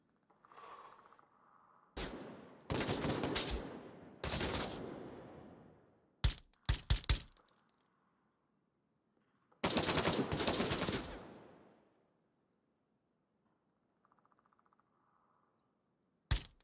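Pistol gunfire in the Onward VR shooter: several sharp bursts of loud shots spaced across the stretch, with quieter gaps and a final single crack at the end, no talking.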